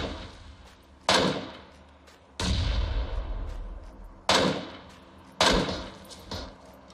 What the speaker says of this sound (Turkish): Bir tane daha bomba attı bana.